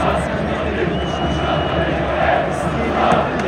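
A football stadium crowd at the İstanbulspor versus Fenerbahçe match roars and applauds Tadić, a dense, loud, continuous wash of cheering and clapping.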